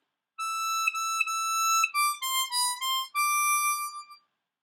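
C harmonica playing a slow melodic phrase from a song in the high register starting on hole 8 blow, clear sustained reedy notes close up with no talking.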